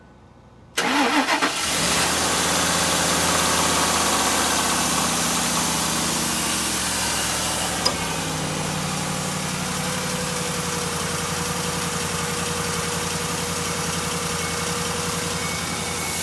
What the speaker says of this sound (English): So we're just going to start it.